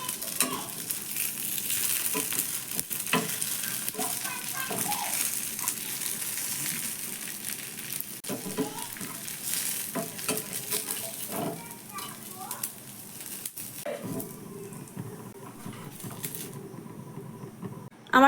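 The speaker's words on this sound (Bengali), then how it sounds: "উল্টে পাল্টে একটু কালার চেঞ্জ করে ঠিক এইভাবে করে আমি ভেজে নিলাম।" Tiffin snacks fry in a pan of oil while being flipped and turned, a steady low sizzle with scraping and stirring clatter running throughout, broken by occasional louder knocks of the utensil against the pan.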